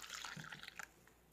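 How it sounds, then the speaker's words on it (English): Boiling water pours and splashes briefly into a container, faint and close, then fades out. "I'm going to add the boiling water"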